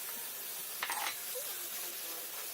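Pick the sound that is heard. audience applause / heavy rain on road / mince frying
mince frying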